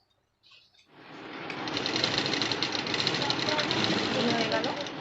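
A sewing machine runs steadily, stitching a hook strip on a blouse, starting after a brief quiet moment and then whirring continuously at close range.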